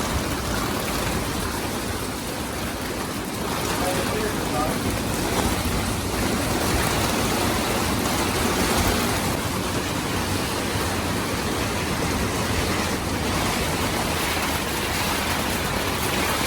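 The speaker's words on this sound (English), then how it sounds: "This wind is nuts." Strong wind buffets a catamaran moored in Turkey in winter, a loud, steady roaring rush with gusting swells and water noise, continuous throughout with no talk.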